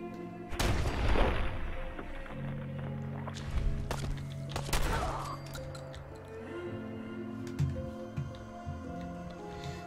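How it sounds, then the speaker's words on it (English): Gunfire in Fallout 4 while fighting a legendary feral ghoul stalker: two loud, sharp shots close together near the start, a third blast a few seconds later, then scattered softer clicks and thuds over a steady game music bed. "I need to shoot your friend in the head."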